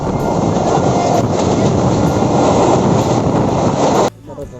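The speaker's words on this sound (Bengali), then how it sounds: "পিছন দিয়ে ট্রেন চলে যাচ্ছে, যে ট্রেনে করে এলাম" A passenger train rumbles past close by with a loud, steady roar and rattling wheels, heard from a station just after arriving on it, then cuts off abruptly near the end.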